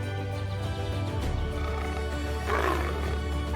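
Lions roar while clashing with spotted hyenas on the Serengeti, a loud, dense wildlife din of deep growling roars that rises again near the end, close and continuous without speech.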